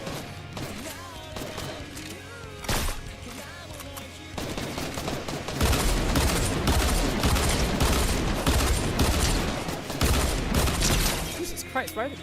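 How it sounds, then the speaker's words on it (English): Gunfire from dual pistols in a video game: scattered shots at first, then a loud, dense flurry of rapid overlapping blasts and impacts that stays intense to the end. "why are the dual pistols so fucking loud?"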